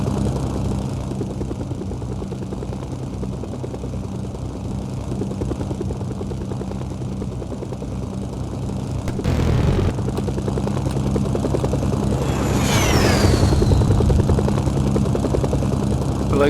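A helicopter in a video game drones steadily with rapid rotor chop and engine hum, loud and continuous throughout, swelling slightly with a brief whoosh partway through.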